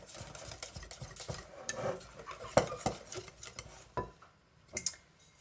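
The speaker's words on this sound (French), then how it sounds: "pour l'instant, là, je fais la pâte à crêpes" Crêpe batter being stirred in a bowl: uneven clinks and scrapes of a utensil against the bowl, close but faint, with sharper knocks now and then and no talking.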